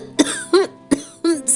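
An old male servant's coughing, voiced by a narrator: four or five rough, throaty coughs in quick succession, close and fairly loud, with a throat-clearing rasp and no words spoken.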